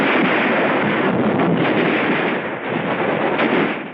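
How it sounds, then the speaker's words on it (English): Dense, continuous battle noise of rifle and mortar fire on Tarawa in 1943, a loud unbroken roar of overlapping shots and blasts with no clear gaps. "Our rifle fire is deadly."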